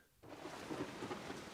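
Thunderstorm effect from the Storm card in the video game Marvel Snap: a sudden burst of dense, hissing rain-like noise with a low rumble that starts abruptly and holds steady at a fairly faint level.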